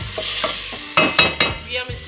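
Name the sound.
stirring and roasting spice masala with a spoon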